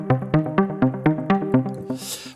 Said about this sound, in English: I'm playing a chord. I play 3 notes,